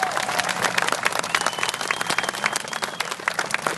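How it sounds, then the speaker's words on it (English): A crowd at an outdoor rally to save Thompson Square applauds, dense steady clapping from many hands throughout, fairly close and continuous. "So they deserve a huge round of applause."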